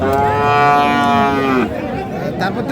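A bull at a cattle market in Cumilla lets out one long, loud moo up close that breaks off partway through, followed by background chatter.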